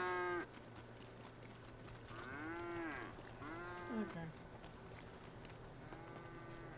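In a FiveM roleplay game, cattle low several times in long, wavering moos with short pauses between them. A brief spoken word comes early.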